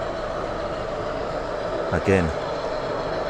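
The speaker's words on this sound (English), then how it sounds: "Another diesel coming through the other platform." Model railway diesel locomotive rolling through a station platform on a large exhibition layout, a steady low rumble under a busy hall with a brief louder swell of passing noise midway and voices talking throughout.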